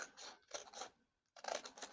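Scissors cutting a sheet of paper to even up the edge for a homemade no-stitch sketchbook, two close, crisp snipping bursts separated by a brief pause, with no talking.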